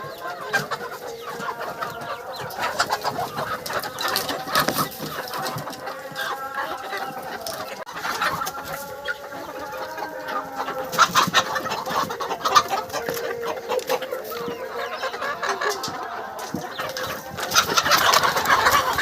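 Village desi chickens cluck busily up close, their calls overlapping, with bursts of wing flapping scattered throughout and a louder flurry near the end.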